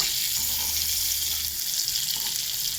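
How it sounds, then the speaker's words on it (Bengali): Fritters of gram flour, egg and onion frying in hot oil, giving a steady, close, crackling sizzle that continues unbroken, with no talking. "বেসন ফাটিয়ে, ডিম ফাটিয়ে, পেঁয়াজ দিয়ে দেখো বড়া করা হচ্ছে।"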